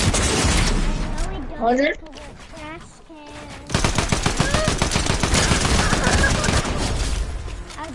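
Rapid automatic gunfire from a gun in a video game, a loud dense stream of shots after a brief pause, with people talking over parts of it.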